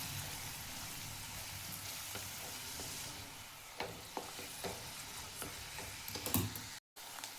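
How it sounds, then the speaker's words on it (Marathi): Chopped onion frying in oil in a pan while a vegetable dish is cooked, giving a steady close sizzle with a few soft stirring clicks and scrapes toward the end. "बारीक चिरून घेतलेला कांदा टाकायचा आहे. तेलामध्ये कांदा भाजून घ्यायचा आहे."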